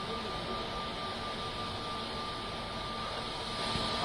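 The first airplane lands on the runway at Bhogapuram airport, heard as a steady, moderately distant jet engine roar with a faint tonal whine, continuous and unbroken, with no voices.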